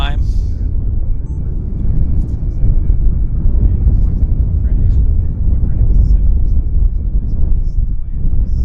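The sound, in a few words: Boeing 787 Dreamliner aircraft passing in strong wind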